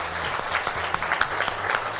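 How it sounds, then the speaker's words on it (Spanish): Brief applause for adult school students, a modest group clapping at moderate distance with sharp individual claps audible in the mix. "el aplauso para cada uno de ellos y nuestra admiración"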